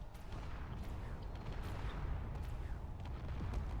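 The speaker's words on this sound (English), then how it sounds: "All these ships are just exploding over here" Ships blowing up in a space battle video game with pirates and drones, a faint rumbling stream of booms and gunfire-like bursts, with scattered sharper cracks over a low, continuous roar.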